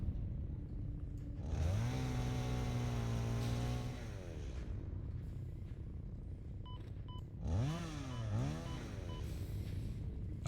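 A chainsaw in the video game Satisfactory revs up while cutting down trees: a loud, buzzing engine whine rising in pitch, held steady for a couple of seconds, then a second rev swelling and dropping, over constant droning background game noise.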